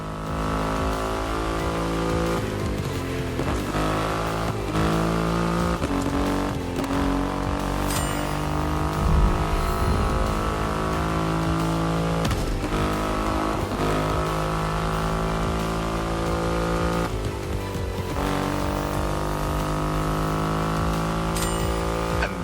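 Triumph Rocket 3 motorcycle with a 2.5-liter engine in The Crew Motorfest racing game, a deep continuous engine roar with repeated rev rises and gear shifts, loud and alone.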